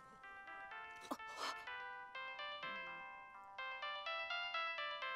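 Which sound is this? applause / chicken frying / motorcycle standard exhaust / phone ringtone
phone ringtone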